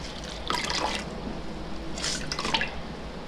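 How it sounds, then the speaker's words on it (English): Rinsed wool yarn is squeezed by hand to press out excess water, giving two close bursts of dripping and trickling liquid over a low steady background, with no talking. "once it's rinsed out, you'll squeeze out the excess water"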